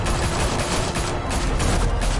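Rapid gunfire crackles in a Batman video game, a dense, continuous volley of loud shots with no break and no voices.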